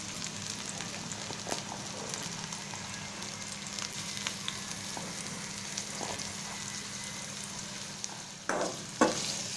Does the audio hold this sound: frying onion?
yes